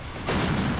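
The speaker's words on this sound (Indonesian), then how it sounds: "Fireball." Fireball spell cast in the Roblox game Arcane Adventures, a sudden whooshing boom that swells and holds as a dense roar, loud and close.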